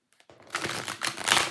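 Tarot cards are shuffled close by, a soft rapid riffling and flicking of card stock that builds after a few light taps and continues with no voice over it.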